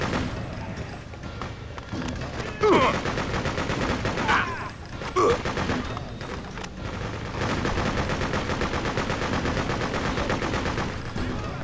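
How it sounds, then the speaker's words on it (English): Dense, sustained gunfire and automatic weapon bursts in the Freedom Fighters video game, loud and continuous with a few heavier booms, no speech over it. "Hey, stop shooting at me!"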